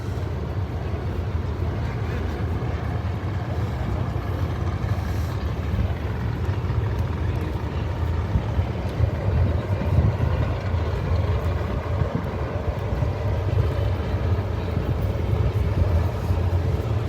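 A supercharged blower drag racing car engine at a Maple Grove drag strip event, a continuous loud low roar rumbling steadily throughout, heard from a distance without pause.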